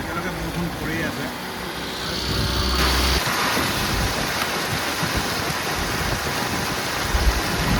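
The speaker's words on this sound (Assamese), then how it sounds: "আৰু আজি গোটেইটো ৰাতিয়ে বৰষুণ পালোঁ, এতিয়ালৈকে বৰষুণ পৰি আছে।" Night-long rain falls steadily on a flooded Sivasagar town, a dense, even hiss with a low rumble underneath that swells noticeably louder after the first few seconds.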